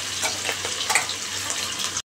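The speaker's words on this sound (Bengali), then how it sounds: "মাছটা ভেজে এখন আমি এখানে রাখলাম" Fish sizzles and crackles steadily in hot oil in a pan, close and continuous, with a few small stirring sounds before it cuts off abruptly.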